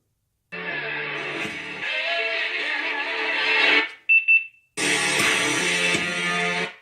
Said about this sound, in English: You heard that beep? That means you hit your max volume.